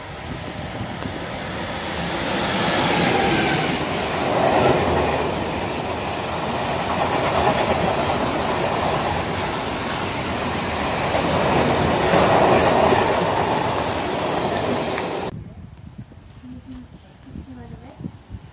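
A train arrives at Gotha station, its wheels rumbling and clattering loudly and steadily on the rails before cutting off abruptly, with people talking throughout.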